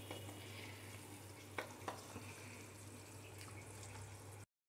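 Fish pieces slide into a pot of thin Bengali-style boal fish curry gravy at a rolling boil, giving steady close bubbling and sizzle with a few soft splashes and clinks near the middle, no talking.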